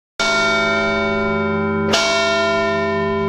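A large church bell in the 52-metre bell tower of Bergamo strikes loudly at close range twice, each stroke followed by a long shimmering hum that sustains through the clip.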